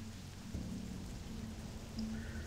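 Rain ambience in World of Warcraft Classic Beta, a steady wash of falling rain with a low rumbling undertone, continuous and even throughout, no voices.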